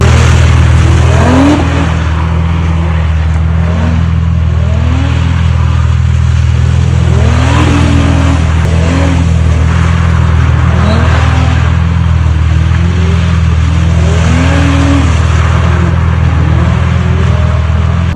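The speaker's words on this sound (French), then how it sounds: "autour d'un rond-point en mode drift, et ben c'est quand même assez drôle parce qu'on peut faire des vrais travers avec une Audi RS3" An Audi RS3 slides sideways around a wet roundabout, its engine surging and falling in repeated revs over a loud, steady low drone and the hiss of spray, with no talk.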